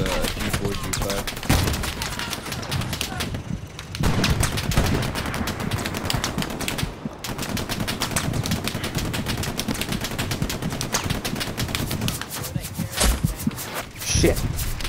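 Sustained machine gun fire with rapid bursts and scattered gunshots crackles through a war video game battle, dense and continuous, with a player talking over the shooting throughout.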